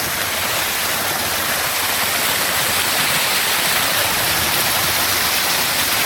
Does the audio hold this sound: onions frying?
no